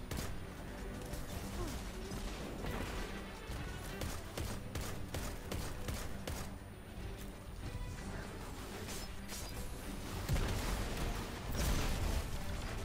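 Dense, continuous gunfire in Destiny 2 as players shoot a boss, rapid overlapping shots and impacts forming a loud unbroken barrage that swells near the end, with game effects layered throughout.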